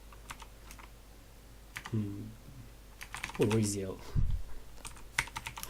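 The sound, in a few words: typing on a computer keyboard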